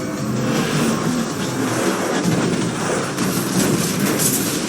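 Vehicle driving in the Mass Effect 2 video game, a continuous loud rumbling roar of motion and road noise with faint rhythmic clatter, steady throughout and with no one talking.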